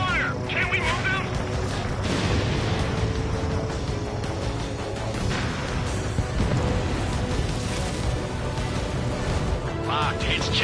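Missile launches and gunfire rattle through an Ace Combat battle, a dense barrage of bursts and booms over a constant rumble, with voices talking over the action.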